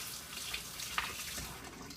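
Tap water runs steadily as felted stones are rinsed under it, a close, even hiss of flowing water with a small splash near the middle and no voices.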